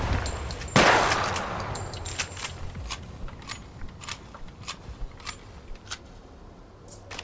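A single loud shotgun blast goes off in the Project Silverfish video game and rings away in a decaying tail, followed by a string of quieter, evenly spaced clicks and ticks.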